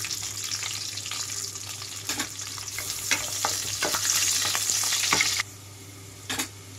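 Onions, green chillies and whole spices like cardamom and star anise sizzle and fry in hot oil for soya chunk biryani, a steady crackling hiss with occasional stirring scrapes and a quieter stretch near the end.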